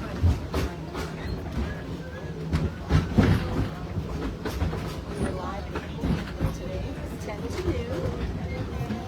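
Rhythmic clacking and rumbling of the Wildlife Express passenger train at Disney's Animal Kingdom in motion, with people talking nearby over the steady rolling noise.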